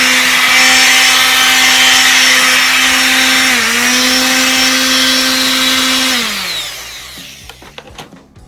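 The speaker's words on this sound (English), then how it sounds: "I'm just going to use a palm sander and do the best I can" Palm sander buzzing steadily against giant Jenga wooden blocks, a loud continuous whine that dips briefly midway, then winds down and stops near the end, leaving a few faint knocks.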